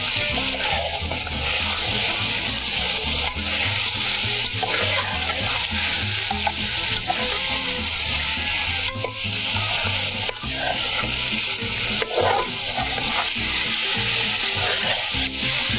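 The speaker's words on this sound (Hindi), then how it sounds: "चिकन को थोड़ा सा भूनना है इसमें।" Chicken pieces fry in a pot for biryani, with a loud continuous sizzle and repeated scraping, clattering stirs throughout, close and steady.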